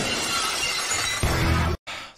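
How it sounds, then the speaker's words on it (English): Glass shatters loudly and abruptly as the opening of Stone Cold Steve Austin's wrestling entrance theme, a dense crashing burst lasting over a second before cutting off. "This better open with the glass shatter."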